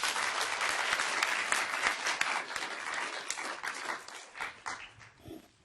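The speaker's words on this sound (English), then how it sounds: "Another round of applause." Applause from the audience at the final round of a moot court competition, broad and sustained clapping that gradually thins out and fades toward the end.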